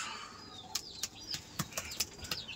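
A Rajshahi Giribaz pigeon beats its wings in a series of sharp, fluttering flaps, with about seven distinct bursts coming close by and loud over a soft background.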